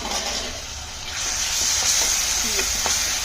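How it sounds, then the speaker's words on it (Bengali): Onion paste fries in a pan for a Bengali shrimp curry, producing a close, constant hissing sizzle that grows slightly louder midway, with light stirring clicks near the end. "পেঁয়াজের গন্ধটা যেন চলে যায়, ভালো করে ভেজে নিচ্ছি।"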